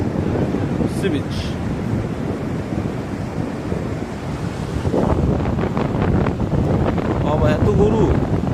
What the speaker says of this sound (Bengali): Sea beach.